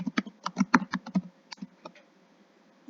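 Quick typing on a computer keyboard, a close run of light clicky keystrokes that slows and trails off into a few scattered taps.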